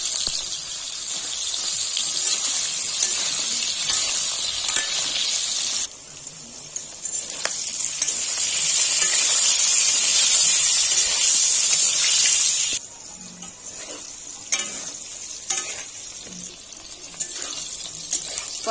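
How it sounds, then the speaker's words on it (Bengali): Potatoes and pointed gourd sizzling in hot oil in a kadai, a steady loud hiss and crackle that dips in level midway and again near the end, with no voices over it. "এবার আলু পটলগুলো ভেজে নেব।"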